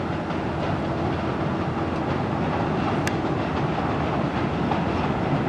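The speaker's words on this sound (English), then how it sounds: "here comes the tour train now" A steady rumbling roar of the passing Agawa Canyon tour train with faint rhythmic clatter, heard from a distance and unbroken throughout.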